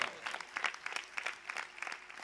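An audience at a gathering bursts into brisk, dense clapping to honour the Bhuj temple for its service, a short burst of many hands applauding at moderate distance.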